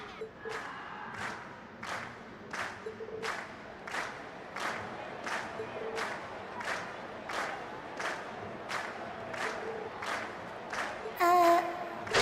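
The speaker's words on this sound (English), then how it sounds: "we've heard your cheers loud and clear" A concert crowd in The Legend of Heroes: Trails of Cold Steel chants in a steady rhythm of about a dozen loud, evenly spaced cheers, closing with a brief louder burst.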